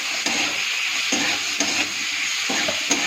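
Vegetables stirred with turmeric and salt in a pan, producing a steady close sizzle with soft scraping strokes of a spoon every half second or so, no voices.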